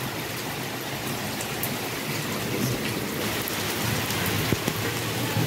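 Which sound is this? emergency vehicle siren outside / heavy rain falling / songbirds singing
heavy rain falling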